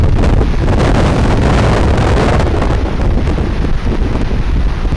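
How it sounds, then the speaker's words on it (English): Strong wind from Storm Katie buffets an outdoor microphone in loud, continuous roaring gusts, with no speech. "it's a bit bloody windy, isn't it?"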